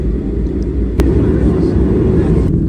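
Airplane taking off, heard as a steady, loud low engine roar that fills the whole clip, with a brief sharp click partway through.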